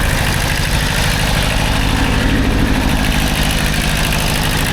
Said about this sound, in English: I got both of the tractors running